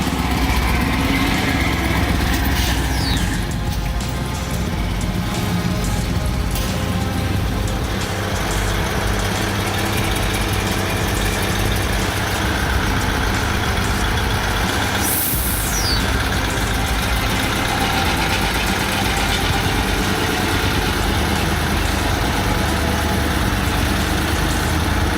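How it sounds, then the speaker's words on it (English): A Fuso 8355 heavy-duty truck engine runs on a mountain path, a continuous loud rumbling drone that holds steady throughout with no pauses. "The Fuso 8355 is in a league of its own. That mountainous path doesn't stand a chance against this heavy-duty vehicle."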